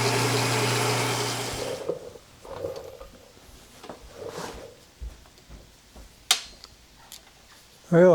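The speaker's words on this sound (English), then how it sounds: "Well, I drilled a hole in that," Power drill boring a hole in a trim piece for Buckboard Flyer seats: a loud, close whining drill run lasting under two seconds that cuts off abruptly, then scattered light clicks and handling knocks.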